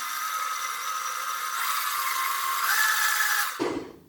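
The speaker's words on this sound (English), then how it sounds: "we're gonna blend this up just a little bit more." A blender whirs steadily as it purées an açaí bowl, a loud continuous motor-and-blade roar that rises in intensity partway through, then cuts off abruptly near the end.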